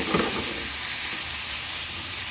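Tomatoes added to a hot pan give a loud, steady sizzle of frying with a brief initial burst as they hit the oil.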